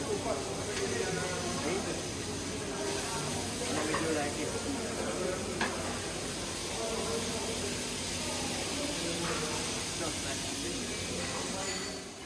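Trout fillet sizzling in a frying pan at a Jamaican restaurant kitchen, a steady broadband hiss and crackle running throughout, with people talking over it.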